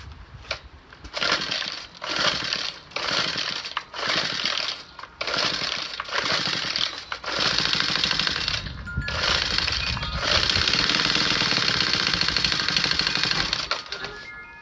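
Troy-Bilt leaf blower that won't start, with the choke on: repeated bursts of pull-cord yanking and brief sputtering engine catches, followed by several seconds of ragged, uneven running before it cuts out.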